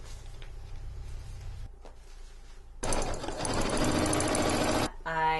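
Sewing machine running in a steady, fast burst as it stitches along the edges of a messenger bag flap, loud and close after a quieter stretch of low background hum.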